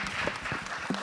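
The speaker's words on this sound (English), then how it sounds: "Big round of applause." A panel audience claps in a brief, dense burst of applause, steady and fairly close, with no clear voice over it.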